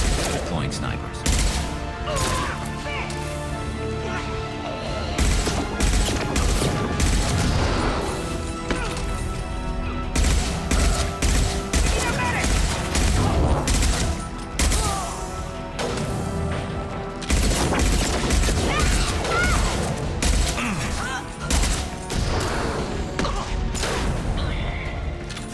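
Sniper rifle fire in Mass Effect 2, repeated loud shots among dense game combat noise, music and effects, with a voice speaking over parts of the fight.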